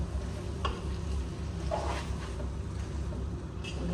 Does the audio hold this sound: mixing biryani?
yes